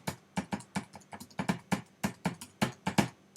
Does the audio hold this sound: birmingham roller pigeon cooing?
no